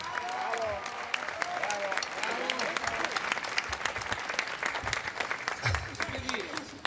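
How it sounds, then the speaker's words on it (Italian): Applause from an audience at an outdoor orchestra concert in a town square in Jesolo, a continuous ripple of clapping with voices and cheers from the crowd mixed in. "Un bel applauso, signori."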